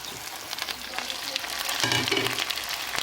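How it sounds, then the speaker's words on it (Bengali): Potatoes sizzle in oil spiced with dried red chilli and five-spice seeds, with onion and tomato added, making a steady close crackle and hiss that builds slightly midway, with occasional stirring scrapes. "শুকনো লঙ্কা পাঁচ ফোড়নটা ভাজা হয়ে গেলে তারপর দিয়ে দিচ্ছি আমি আলু"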